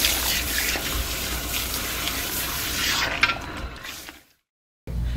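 Conditioner is rinsed out of hair at a salon sink under a broad, close, steady rush of running water that shifts briefly, then cuts off into silence before the flow returns.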